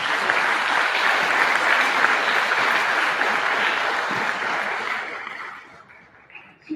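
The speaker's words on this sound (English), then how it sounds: "Give Ms. Barzier a big clap." Audience at a school Black History program breaking into loud, sustained applause for several seconds that fades out toward the end.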